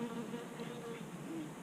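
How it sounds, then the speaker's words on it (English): Honey bees buzz steadily inside a hive box where they are trapped up top during a summer mite check, a faint continuous droning hum with no voices. "Your bees are trapped up top."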